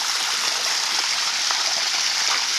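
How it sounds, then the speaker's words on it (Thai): Bua Tong waterfall flowing down, a continuous bright rushing hiss of falling water, close and steady without pauses or speech. "น้ำตกที่ไหลลงมานะครับงามขนาดเลยเนี่ย"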